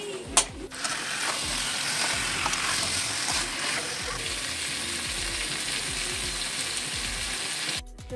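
Onion juice poured into a hot pan for a Bengali dish, setting off a loud, steady crackling sizzle that runs continuously for several seconds and cuts off abruptly near the end.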